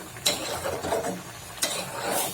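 A spinach chop fries in a pan as a utensil stirs and scrapes it, with two sharp scraping strokes over a low, steady sizzle.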